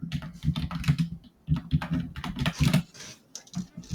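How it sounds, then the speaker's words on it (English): Furious, rapid typing on a computer keyboard, with dense clattering key strikes in quick bursts and brief pauses, close and fairly loud throughout. "Ah, yes, the furious typing."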